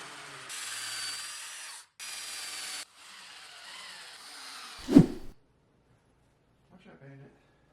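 A power drill drives screws to fix a bracket onto a wooden bed headboard. It gives close, whirring bursts of several seconds separated by pauses, then a sharp knock. A brief faint rattle comes near the end.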